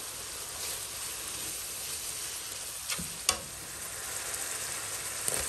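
Dried boal fish seasoned with turmeric and salt frying in a pan, a steady close sizzle and crackle throughout with a couple of brief sharp pops, no voices.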